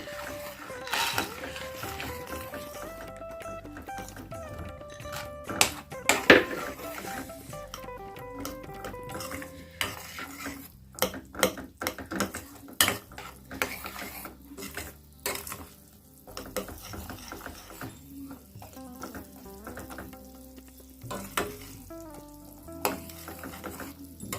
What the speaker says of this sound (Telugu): ఇలా బాగా మిక్స్ చేసుకున్న తర్వాత మనం పల్లీలు అనేవి వేస్తూ మిక్స్ చేసుకుని ఉండాలి.